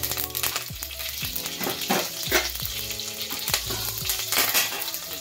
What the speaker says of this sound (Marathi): तेल चांगलं गरम झालं का त्यात घालायची जिरी, थोडी मोहरी आणि